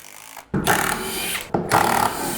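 A power drill backs screws out of a 2x6 glued with subfloor adhesive to the underside of floor joists, two close, loud whirring bursts of about a second each, separated by a brief pause.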